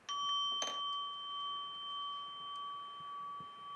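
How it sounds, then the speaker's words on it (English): A small gong is struck once, giving a clear bright ring that sustains with a gentle wavering shimmer and slowly fades, with a faint tap or two in the quiet background. "we actually hear a beautiful sound where she hits this little gong"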